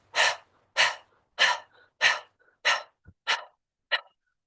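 A person pants through the open mouth with the tongue out in imitation of a dog during a Kundalini yoga breathing exercise, with seven sharp, forceful breaths in a steady rhythm, close and loud, separated by brief silences.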